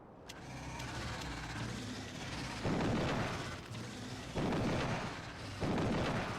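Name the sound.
Tesla gun firing in the video game Factorio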